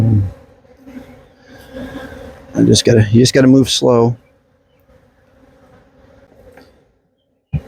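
Honey bees swarm and buzz around an open backyard hive, a steady close drone running under quiet conversation, with a loud burst of handling noise midway.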